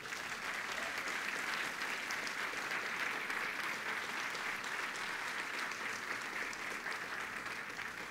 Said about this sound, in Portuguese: Dá um aplauso ao Rei da Glória.